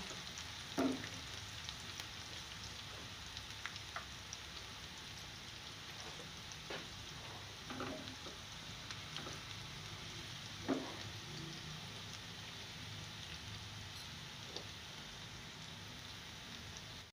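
Finely chopped onions frying in oil until golden brown give a soft, steady sizzle with faint crackles and occasional stirring clicks, quiet and close, with no talk.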